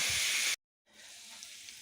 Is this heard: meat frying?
yes